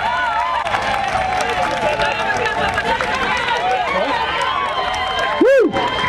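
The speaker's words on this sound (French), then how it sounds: "Sous vos acclamations, s'il vous plaît" Dense crowd applause and cheering fill a campaign rally, steady and loud throughout, with an amplified announcer's voice carrying over it.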